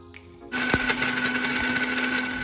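Kitchen mixer grinder whirring as it grinds tamarind and roasted chillies with water for tomato rasam, switching on sharply after a quiet start and running steadily and loudly to the end, with no talk.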